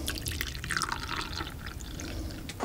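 Freshly brewed coffee pours from a KohiPress vacuum double-walled brewer into a cup, a steady close trickle with small splashes lasting a few seconds, no voices.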